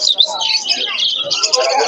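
Pigeons at a busy pigeon market in Beldanga, Murshidabad, chirp and call continuously close by, with people talking throughout.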